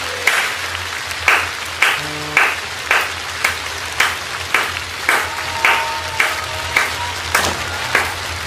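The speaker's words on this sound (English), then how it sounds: "Slow clap." Slow, deliberate handclaps ring out one at a time at an even pace, about a dozen sharp claps close by, over faint music in the background.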